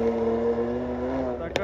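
A BMW car exhaust idles with a deep, steady burble, close by, ending in a brief sharp pop.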